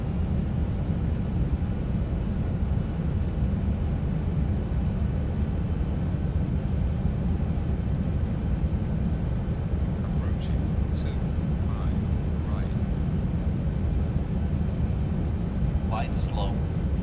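A Boeing 737-800's jet engines spool up on the runway for takeoff in X-Plane 11, a loud, steady low roar that fills the whole clip. Brief faint radio chatter comes in near the end.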